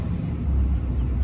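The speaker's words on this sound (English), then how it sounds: "Okay, now I'm touching the brakes." A big truck's air brakes hiss steadily for a moment under a deep, continuous engine and road rumble, loud and close.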